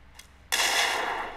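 A grenade goes off in the mobile game PUBG: New State, a sudden loud blast after a faint click, followed by a bright crackling roar that slowly fades over about a second.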